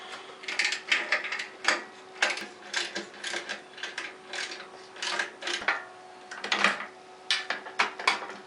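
Ratchet wrench loosening 12mm muffler clamps on a Kawasaki Vulcan 1500 motorcycle, rapid repeated clicking bursts in a steady back-and-forth rhythm, close and fairly loud, with no talking.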